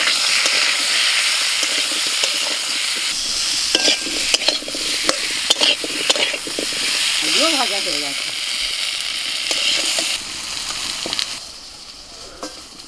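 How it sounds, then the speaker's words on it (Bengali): Potatoes frying with garlic in a pan, a continuous close sizzle with scattered clatter from stirring, a brief voice-like murmur in the middle, and the frying dies down toward the end. "আলুগুলো ভেজে নেব"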